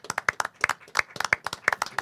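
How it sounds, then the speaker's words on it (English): Audience at a Back The Blue event in New York City applauding a former police commissioner, a steady run of sharp, close hand claps with uneven rhythm and no voices over it. "Please, folks, let's give him a round of applause."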